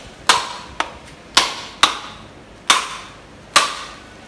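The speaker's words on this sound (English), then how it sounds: "So now I break it up now so we can take it out of the shell and grate that." A dry coconut shell being cracked open in a Jamaican kitchen, six sharp, loud hard knocks spaced irregularly, each ringing briefly before fading, with no talk.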